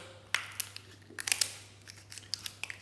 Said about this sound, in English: So put your scissors in there. Kitchen scissors.